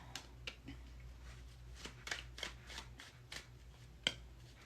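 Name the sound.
tarot cards being drawn and laid out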